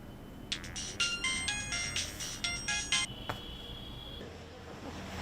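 A phone ringtone plays in a few bright, repeating electronic bursts, then cuts off and leaves a quiet hum.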